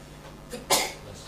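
One quick, sharp sneeze burst, fairly close, preceded by a small intake of breath in an otherwise quiet room.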